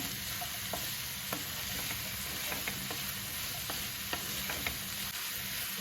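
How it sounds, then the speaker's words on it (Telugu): Sweet corn and onions frying in a pan, a loud continuous sizzle filling the background with faint occasional spatula ticks scattered throughout, no talking. "మేము ఉల్లిపాయలతో పాటు స్వీట్ కార్న్ కానీ వేయించుకోవాలి బాగా"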